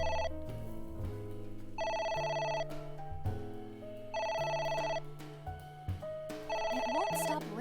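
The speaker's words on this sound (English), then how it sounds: "It won't stop ringing." A telephone rings in the video game AI: The Somnium Files, its electronic ringtone repeating in four steady bursts over a low background score, loud and close with no talking.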